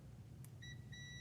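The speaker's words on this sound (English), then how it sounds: "this should beep if the sensor is working" A multimeter on continuity gives two short, faint electronic beeps while its probes test a Mazda RX8 and Miata neutral or reverse safety switch, heard over a low steady hum.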